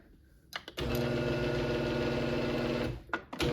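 A Genie G5000 garage door opener, mounted off the door on a 2x4, runs steadily for a couple of seconds with a dense mechanical chattering hum, bracketed by short clicks at start and stop.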